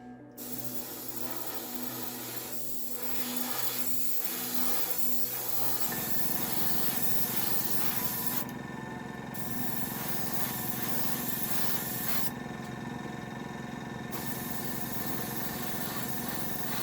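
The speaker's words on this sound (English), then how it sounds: "Just spraying it with some air." Compressed air sprays in a steady, loud hiss over a freshly painted RC car body, broken by short bursts from a nozzle, over a constant mechanical hum.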